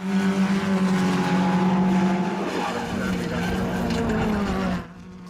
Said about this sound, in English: Duncan down the gearbox into the hairpin goes Doherty as he leads from Harris